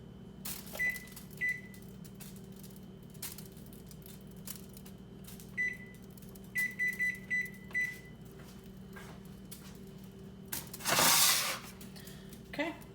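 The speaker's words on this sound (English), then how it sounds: "I'm going to put a 50-minute timer on the oven because I want to check that chicken" An oven timer is set with a run of short electronic beeps, some single and a quick cluster of four, over a steady low kitchen hum, followed by a brief louder hiss near the end.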